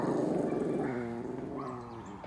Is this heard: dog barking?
yes